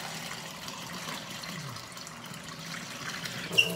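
Water trickling and splashing as it is poured and mixed with Worcestershire sauce in a kitchen, a soft, close liquid sound with a small clink near the end.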